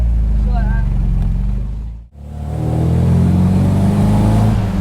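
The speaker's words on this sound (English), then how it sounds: "Give it a rev" A classic MGB Roadster sports car engine revs up close by, dipping briefly before climbing back into a strong, sustained roar. People talk over it.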